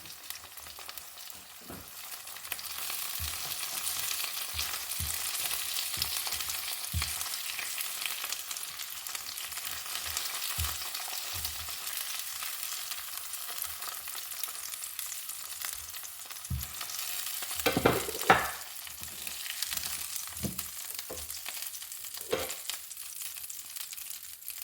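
Tuyo, Filipino dried fish, fries in a pan with a steady bright sizzle, punctuated by soft clinks and stirring knocks of a utensil, close and moderately loud.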